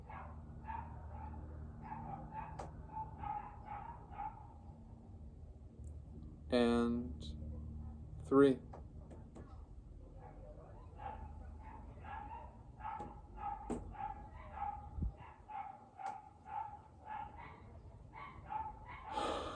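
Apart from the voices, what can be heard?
dogs barking in the background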